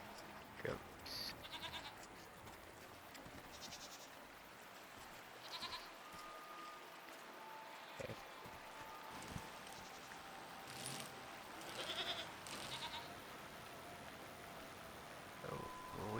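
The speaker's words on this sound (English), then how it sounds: "Goats." Goats at a farm enclosure bleat repeatedly in brief nasal calls scattered across a faint ambient background, some nearer and some farther off, with a person speaking briefly.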